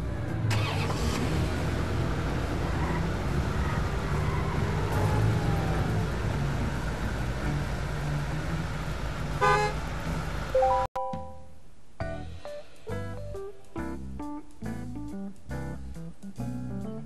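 Car engine and traffic noise from the mobile driving game Does Not Commute, a steady droning hum that cuts abruptly to quieter electronic game music partway through.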